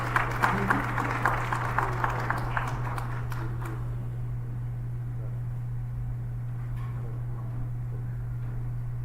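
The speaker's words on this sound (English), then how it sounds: "We have a big round of applause." Audience applause rings out at a teachers' excellence awards ceremony, a dense burst of clapping over the first few seconds that thins out and fades into a steady low hum.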